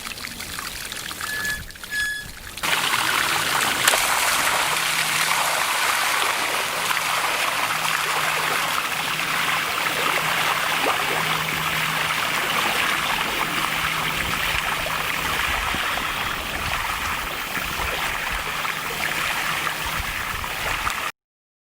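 Water pours and splashes steadily into the Jacob's Ladder swimming pool at Selah, a close, continuous rushing flow that holds at an even level for about twenty seconds with no one talking.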